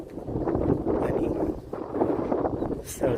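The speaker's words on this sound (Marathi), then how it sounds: "सळसळणारा वारा." Wind rustles steadily through countryside trees and bushes along a rural path, a continuous broad whooshing that swells and eases, close and fairly loud with some buffeting against the microphone.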